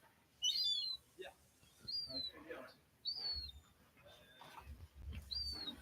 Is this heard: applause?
no